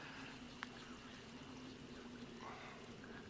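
Dirty water is poured into glass jars in the 7 Days to Die survival game, a faint, steady trickle with one small clink, quiet and alone.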